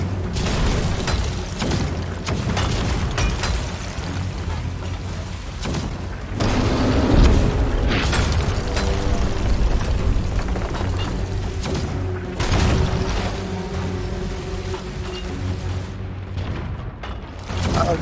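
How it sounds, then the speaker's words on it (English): Cannons on pirate ships in the video game Sea of Thieves fire cannonballs in a dense, continuous barrage of heavy booms and thuds, loud and close, layered with steady game battle noise. "Damn, that's a lot of cannonballs."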